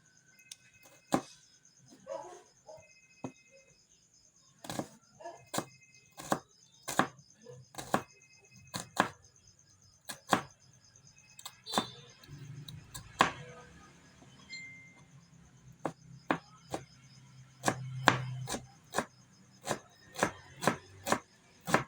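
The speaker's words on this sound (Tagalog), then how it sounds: "Next nating hiwain ay yung ating sibuyas." A knife chopping onion on a board at home for a pechay omelette, a long run of sharp, fairly regular taps spaced about half a second apart, close and clear over a quiet room.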